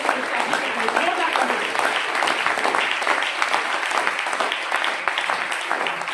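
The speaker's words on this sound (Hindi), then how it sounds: "उनके लिए एक जोरदार ताली होनी चाहिए" Enthusiastic audience applause at a Hindi-language AWPL business gathering, a dense, steady roar of clapping from a large crowd that continues throughout.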